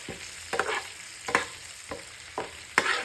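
Sliced onions (savala) frying in oil for onion rice, a soft sizzle broken by about six sharp stirring scrapes at a fairly regular pace, near and quiet, no speech.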